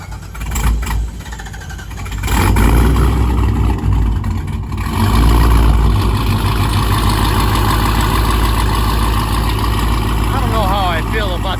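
A Jeep Trackhawk's engine runs on a dyno, a loud, close, continuous drone that rises into a stronger, heavier roar after a couple of seconds and holds there steadily.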